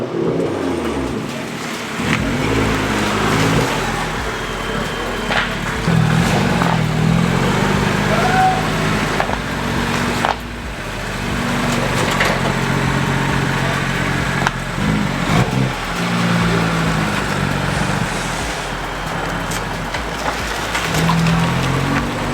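BMW F87 M2 fitted with a Dinan exhaust system, its engine revving with a throaty, deep rumble that swells and dips in several surges, loud and close, held steady throughout with brief drops between revs.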